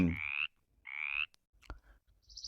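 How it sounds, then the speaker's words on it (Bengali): A frog croaks in two short buzzy bursts with a pause between, followed by faint clicks and a quieter trailing call, close and otherwise quiet. "ব্যাং"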